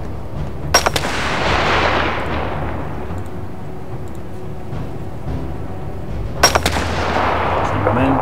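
Gunshots in the video game This War of Mine: two sharp separate reports about six seconds apart over a steady rumbling ambient background, with no talking.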